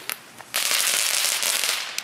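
Aldi firecrackers from a cheap pack set off outdoors: two small pops, then a loud dense crackling burst that rattles on for about a second and a half, ending with a final snap.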